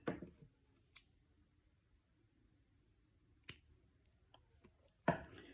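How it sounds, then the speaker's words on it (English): Scissors snip through yarn, making three sharp, isolated cuts spaced a few seconds apart in an otherwise quiet room. "we're going to cut a good 6 inches at least off of our yarn"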